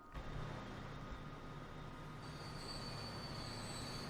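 A train in the railway game Transport Fever, a steady metallic rolling rumble with a high sustained wheel squeal rising partway through, moderately quiet and continuous.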